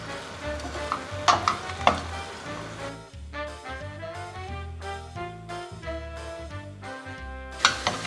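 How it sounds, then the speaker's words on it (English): Scrambled eggs and vegetables fry in a hot pan with a steady close sizzle, broken by sharp scraping and clacking as the mixture is stirred and tossed. No one speaks. "So now kind of just mix everybody up together and scramble your eggs with all of your vegetables"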